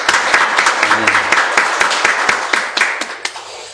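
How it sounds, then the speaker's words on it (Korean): Congregation clapping inside a church during a Sunday service, a spread of individual hand claps with audible separate strikes, fairly close and steady for a few seconds with no talk over it. "우리 하나님께 감사의 박수를 올리시기 바랍니다"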